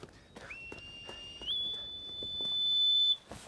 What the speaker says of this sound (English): It sounds like the goat herd's whistle.